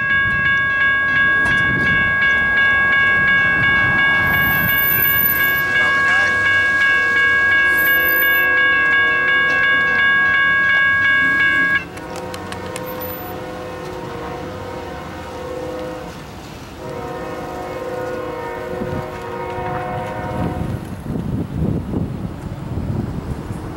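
A CSX freight train led by a GE Evolution series locomotive sounds a long, loud multi-chime horn blast at a Southeast US railroad crossing, then the horn cuts off, leaving rumbling engine and wagon noise with wind buffeting the microphone.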